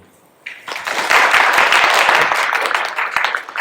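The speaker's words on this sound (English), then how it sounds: "let's give a welcome, and actually a well round of applause as a token of appreciation to Yin" A faculty meeting room bursts into applause after a brief quiet start, a dense, close round of clapping from a modest group that swells quickly, holds steady, then begins to thin near the end.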